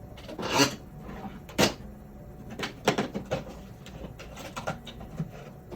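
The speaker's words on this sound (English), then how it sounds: "And let us countersink these screw holes right here." A hand countersink tool rasps into screw holes in a Tamiya Mini 4WD Mach Frame chassis, giving short scraping and grinding bursts in an irregular rhythm, close and moderately loud over faint room noise.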